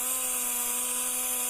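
A dual-action sander runs at low speed while wet sanding, giving a steady, close mechanical whir with a constant hum and bright high-pitched hiss and no talk over it.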